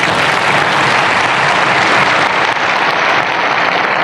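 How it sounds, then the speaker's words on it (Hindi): Dense, continuous applause from a large audience at a Buddhist community gathering, loud and sustained throughout with no voices over it. "ये ताली आपने मेरे लिए बजाई है या जाति की विदाई में बजी है?"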